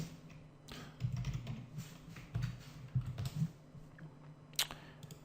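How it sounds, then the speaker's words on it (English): A computer keyboard is typed on while registering a user in a web form, producing close bursts of soft key taps in quick irregular runs with short pauses, with no talk. "So let's try to register a new user. Let's type Alex Cruz"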